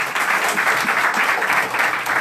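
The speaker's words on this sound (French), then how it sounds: "Applaudissez encore pour elle." Loud, continuous clapping from an audience at a hairdressing school's BP Coiffure diploma ceremony honours a graduate, forming a dense, even wash of applause with no talking.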